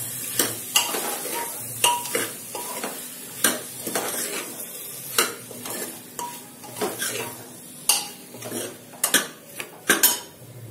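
Tender tinda (dhemse) is stirred in a pan, a spoon knocking and scraping the metal in repeated sharp clinks over a soft sizzle, close and alone.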